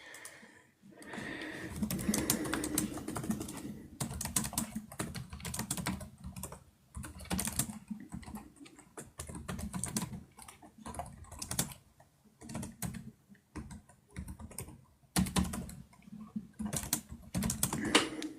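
Someone types on a computer keyboard nearby, quick bursts of clacking keystrokes broken by short pauses, with no other sound.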